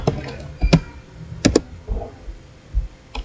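Several separate clicks of typing on a computer keyboard, close and fairly quiet, in irregular bursts of keystrokes with pauses in between.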